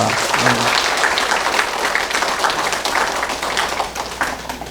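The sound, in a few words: applause from church congregation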